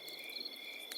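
Crickets in the woods chirp in steady, high, continuous trills, fairly faint but constant, with no voices or other sounds over them.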